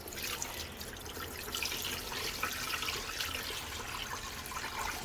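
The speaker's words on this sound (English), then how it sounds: "I like that faucet because it does that bubble thing" A kitchen faucet with an aerated bubbling stream runs steadily at a low level, a soft continuous hiss and splash with no talk.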